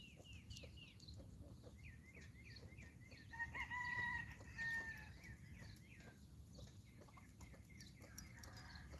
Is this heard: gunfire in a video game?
no